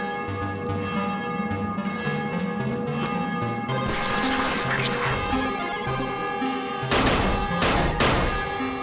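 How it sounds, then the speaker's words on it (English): Fireworks at nighttime in the video game Dying Light, loud crackling bursts and booms set against looping music, with sharp explosive volleys clustered near the end. "And you get fireworks."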